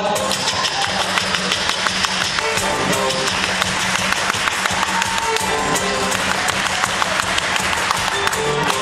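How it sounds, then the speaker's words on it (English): An audience claps along in rhythm while a live band plays a song at a venue, with steady beat-matched claps over the music's sustained tones and no talking heard. "Here comes the clapping part."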